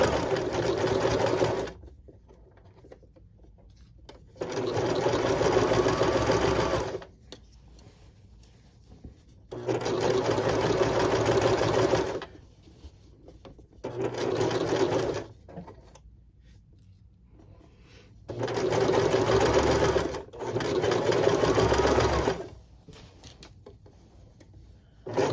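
Sewing machine stitching the outside seam and a pocket of a fabric garment, running in six bursts of steady rapid needle chatter of a few seconds each, separated by quiet pauses while the fabric is repositioned.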